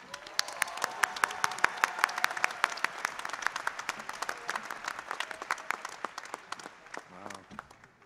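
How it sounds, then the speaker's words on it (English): Audience applause at a university spring commencement ceremony fills the hall with a dense wash of claps, steady for several seconds and then thinning toward the end, with a voice briefly heard beneath it. "And a round of applause for the students from the Henry C."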